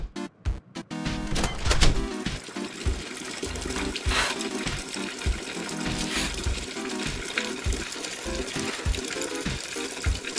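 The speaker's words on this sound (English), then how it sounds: "I just peeing now" An animated cartoon character pees into a toilet, heard as a continuous trickling, splashing water effect after a few sharp clicks at the start, steady and close throughout.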